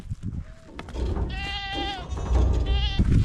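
Kiko goats bleat nearby, several wavering calls overlapping with rustling and shuffling, one voice rising loudly near the end.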